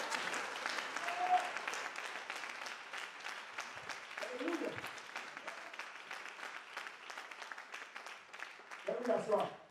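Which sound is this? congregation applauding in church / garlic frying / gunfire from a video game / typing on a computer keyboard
congregation applauding in church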